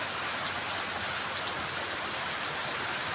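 Sudden steady rain pours down under a clearing sky, a dense even hiss of drops on surfaces with faint scattered patters, close and continuous.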